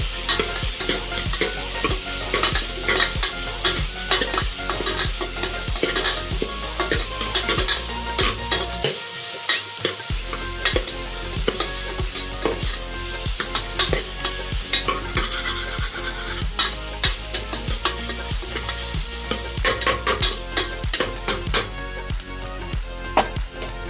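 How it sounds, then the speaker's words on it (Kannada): Onions fry in a pan for tomato tili saaru, sizzling steadily up close while a spoon stirs and scrapes in quick, repeated strokes throughout, with a brief quiet gap partway through and no talking. "ಈರುಳ್ಳಿನ ಕರೆಕ್ಟಾಗಿ ಫ್ರೈ ಮಾಡಿಕೊಟ್ಟೆ"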